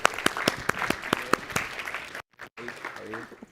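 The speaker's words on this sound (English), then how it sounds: "Round of applause." An audience at an AI startup talk applauds a speaker coming onstage, a burst of many overlapping claps that cuts out briefly before a voice starts talking.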